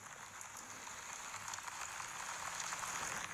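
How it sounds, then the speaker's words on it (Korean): Steady soft recorded rain patter falling on eaves, with a hissy wash of drops, faint and even, no voices. "현재 첨화 및 비소리를 재생을 하고요."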